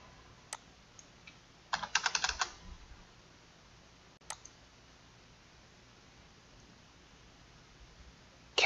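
Computer keyboard typing while a value is entered into a development levy calculator, a short burst of quick clicks plus a couple of isolated key taps amid near silence.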